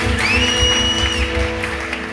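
A church congregation claps together at a service, a steady wash of applause mixed with sustained music and a high held tone.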